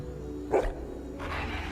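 A dog barks twice inside a video game, a single sharp bark near the midpoint and a rougher burst a moment later, heard over a steady low game soundscape.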